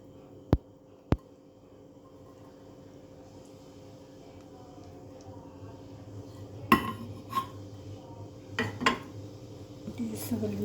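A spoon scrapes and clinks against a container while homemade achaar is stirred together with mustard oil. There are a few sharp early taps, then scattered clatter that grows denser toward the end, close and moderately loud.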